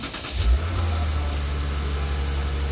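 A 2015 Lexus RC 350 engine cranks and catches with a brief rev, then settles into a steady, smooth low idle close by.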